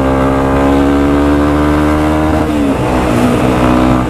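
A vehicle engine revs and accelerates loud and close on a street in Londrina, Brazil, its steady drone rising and shifting pitch partway through with no talk over it.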